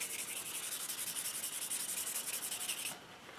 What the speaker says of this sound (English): the grit mixes with the little bit of finish that's being sanded here